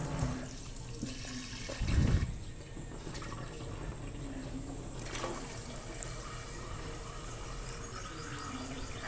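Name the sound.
water being poured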